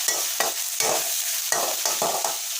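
Pork stir-fried in a hot pan, bursts of loud sizzling with quick scraping tosses every half second or so, close up and steady, no talking.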